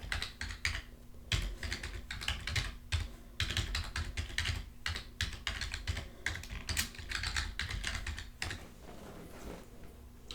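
Computer keyboard typing a username and password: quick, uneven bursts of close, crisp key clicks with short pauses between, no voices.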